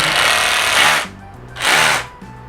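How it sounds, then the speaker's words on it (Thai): A rotary hammer drill bores holes into concrete in two loud bursts of about a second each, its harsh rattling hammer-drill roar broken by a brief pause and lower running between. "เราจะใช้ตัวสว่านโรตารี่นะฮะ เจาะรูลงไปนะครับ เพราะว่าตัวนี้นะฮะมันเจาะปูนง่ายกว่าครับ"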